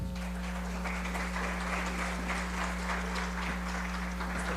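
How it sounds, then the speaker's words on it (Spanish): An audience at an administrative law conference applauds to welcome the panel members, dense and even clapping sustained for several seconds over a steady low room hum. "Recibimos a los integrantes de esta mesa con un fuerte aplauso."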